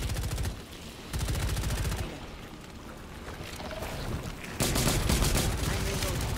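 Rapid automatic gunfire in the co-op shooter Rainbow Six Extraction, long dense bursts cutting in and out with a quieter stretch in between, loud and close.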